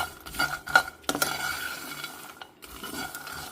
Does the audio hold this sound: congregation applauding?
no